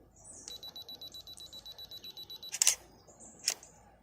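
A camera counts down on a 2-second self-timer with a steady run of high beeps, then fires two sharp shutter clicks close by, with no voices.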